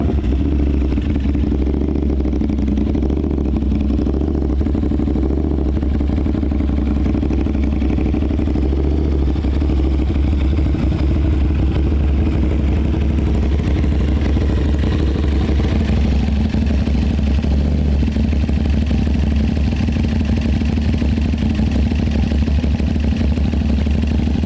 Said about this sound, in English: this is going to be the first startup on the CRT exhaust by Gabro Race Tuning, and a cold start